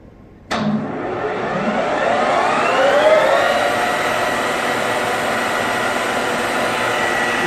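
A Sumori Espanza SP2114 metal lathe runs up to its maximum 2000 RPM, starting abruptly and then holding a loud, steady, rising whine with a humming motor underneath, no voices.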